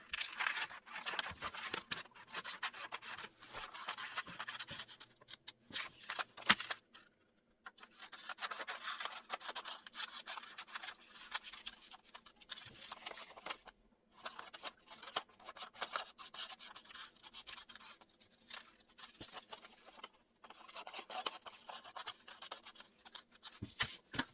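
Scissors snip and slice through a paper pattern, cutting slashes close to the tip of each line; steady close rubbing, rasping cuts run in bursts with a few short pauses, no voices.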